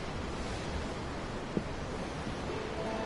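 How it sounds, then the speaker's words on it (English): Ocean waves in the Tales of Arise video game, a steady, soft wash of surf with an even, continuous rush and no clear breaks between swells. "I'm looking at the ocean. The ocean? Yeah. The waves."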